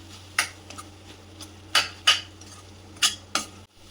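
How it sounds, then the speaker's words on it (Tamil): A spoon stirs and sautés spice masala in a pan for village-style prawn gravy, giving several sharp, separate scrapes and clinks against the metal at an unhurried pace, close and clear with no talking. "கொஞ்சம் நல்லா வதக்கி விட்டுருவோம்."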